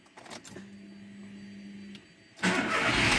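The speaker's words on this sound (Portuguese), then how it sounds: "Vamos lá ligar o carro e esterçar algumas vezes" A car engine cranks briefly and catches, then settles into a loud idle right after the starter, heard close up in a garage during a power steering fluid change.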